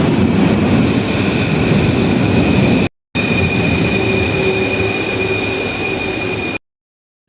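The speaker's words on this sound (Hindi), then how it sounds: "इधर से अपना मेट्रो आ रहा है, देख रहे हैं इस तरीके से।" A metro train arrives at a rainy Paris station, loud and close, with a sustained rumble, high steady wheel whine and squeal tones, broken by two brief gaps.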